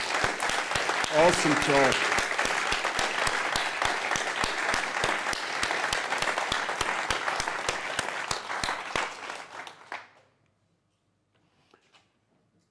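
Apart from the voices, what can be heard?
audience applause for conference speakers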